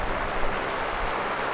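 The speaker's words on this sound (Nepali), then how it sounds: "पानी फाल्दो रहेछ" Water from a small waterfall pours and splashes outdoors on a mountain, a steady broadband rush with some wind, close and continuous throughout.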